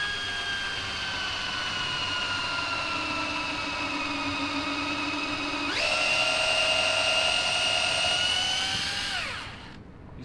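A high-pitched drill whines steadily while drilling out a clogged part of a 1979 Honda Trail 90, then jumps to a faster, higher tone before spinning down and stopping.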